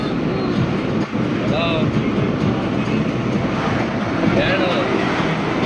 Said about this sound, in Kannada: ನೋಡ್ರಿ ಮೆಟ್ರೋ ಹೋಗ್ತಾ ಇತ್ತು.